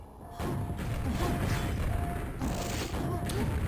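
Grenade and rocket launcher blasts in a fast arena shooter duel, a dense run of muffled booms and crashes layered over constant mechanical game noise, loud and continuous with no voices.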